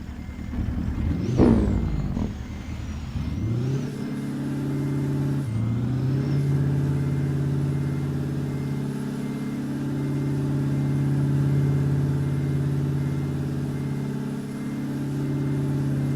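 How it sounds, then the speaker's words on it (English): A heavy-haul truck engine in American Truck Simulator cranks and fires with a rising whine, then settles into a steady, low idling rumble that carries on close and continuous. "let me get the engine running here"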